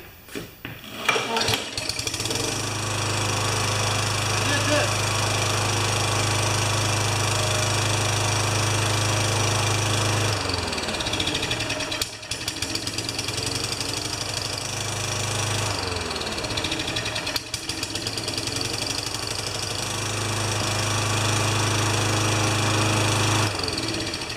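Small petrol lawn mower engine pulled into life and running, a loud steady low chug that cuts out and restarts a couple of times, with short sputtering gaps between runs.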